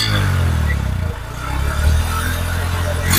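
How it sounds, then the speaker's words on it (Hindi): A 2023 Honda SP 125 motorcycle, a 125 cc BS7 commuter bike, idles with a steady low exhaust hum up close, dipping briefly and then holding an even drone. "अब इसका भी आपको एग्जॉस्ट नोट सुना देते हैं"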